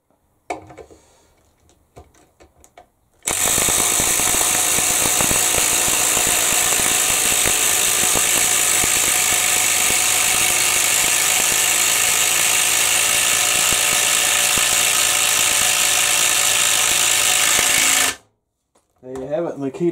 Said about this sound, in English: So the Bosch is driving the screw right next to where the Makita one just went.